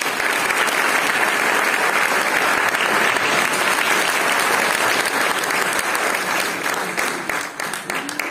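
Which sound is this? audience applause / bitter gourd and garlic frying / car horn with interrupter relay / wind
audience applause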